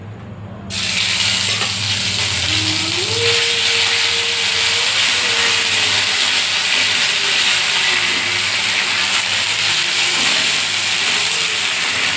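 Water splashes into a pan of frying spice masala of dried chilli, cumin powder and garam masala, setting off a loud, steady sizzle and hiss that starts abruptly and holds throughout.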